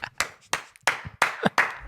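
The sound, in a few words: hand clapping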